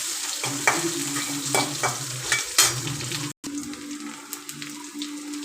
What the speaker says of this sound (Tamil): வெங்காயம் சேர்த்துக்கிட்டோம் வெங்காயத்தை நல்லா வந்து வதக்கி வச்சுருவோம்